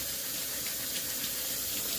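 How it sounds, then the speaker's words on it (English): Hot water runs steadily from a tap to rinse hairbrushes, a continuous close hissing splash with no voices. "we rinse this out with the hottest water you can"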